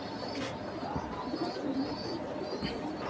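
Pigeons kept for sale coo softly and repeatedly, a low, murmuring burble from several birds at close to moderate distance, with faint background noise and no clear talk.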